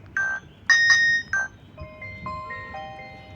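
A Nokia keypad mobile phone plays a ringtone of bright electronic beeps in short clipped bursts, followed by a softer run of stepped tones, fairly close and alone.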